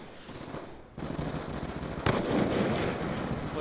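Automatic and rapid gunfire from a Black Ops 2 Gun Game match, dense overlapping bursts with a sharp louder shot partway through, steady and fairly close throughout.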